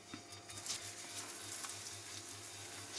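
Breaded chicken nuggets, coated in flour, egg and breadcrumbs, frying in a pan: a quiet, even crackling sizzle that carries on without pause through a short stretch, with no voices.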